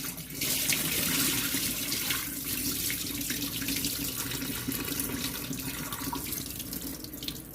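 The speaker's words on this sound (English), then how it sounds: "We have rinsed out the rice. Five times." Tap water pours steadily into a sink as rice is rinsed, a continuous close rush of running water with faint splashing and no voices.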